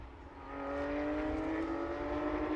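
A race car with a 3.8-litre flat-six boxer engine at Chang Circuit during a Round 6 race, droning steadily with a strong harmonic tone that swells over the first second and then holds loud and continuous, with no talk.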